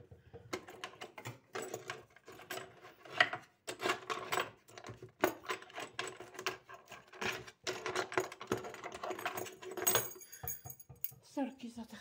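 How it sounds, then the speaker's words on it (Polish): Keys jangle and clink in irregular bursts close by, metallic rattles with soft handling noise and a voice speaking intermittently. "Sorki za te hałasy, ale klucze musiałam, wiecie, od domu wyciągnąć"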